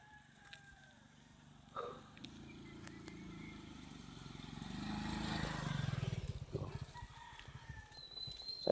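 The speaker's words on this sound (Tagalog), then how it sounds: "Ayan, may dadaang motor." A motorcycle passes on a rural road, its engine building from faint to louder and nearer over several seconds, with a rooster crowing and farm fowl clucking around it.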